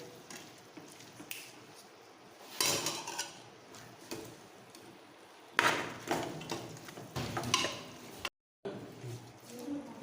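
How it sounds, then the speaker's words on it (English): Rice being added to a pot while cooking vegetable biryani, heard as soft scraping, clinks and pouring rustles in bursts over quiet kitchen background. "Now add the rice."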